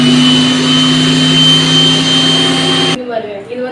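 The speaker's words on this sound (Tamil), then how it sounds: "இதை மூடி அரைச்சினா பிரெட் கிரம்ஸ் வந்து ரெடி ஆகிடும்" A mixer grinder whirs steadily as it grinds bread into bread crumbs, a loud, close, high motor whine that cuts off abruptly near the end, followed by a voice speaking.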